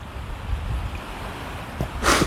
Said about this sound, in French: Il y a le vent en pleine face.